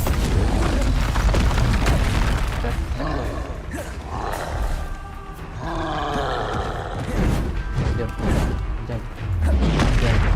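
Spell explosions from Bombarda and Confringo in the video game Hogwarts Legacy, with loud booming blasts and roaring effects that keep going through a dense, busy battle mix, with a voice calling out over them.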